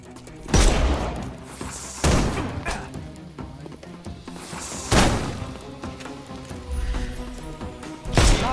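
Heavy gunshots and impacts in the Sherlock Holmes Chapter One video game, four booming bursts spread across the stretch with dense rumbling action between them. No one speaks.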